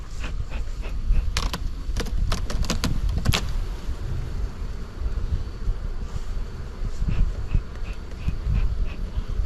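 Honey bees swarm and hum steadily around a full, open hive box during a hive inspection, a dense continuous drone with a few sharp clicks and knocks from handling the wooden frames early on.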